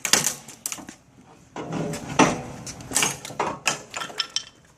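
Firefighters force a door during forcible entry training, with repeated sharp metallic strikes and prying bangs from hand tools driven into the door jamb, loud and irregular, with creaks and clanks between impacts.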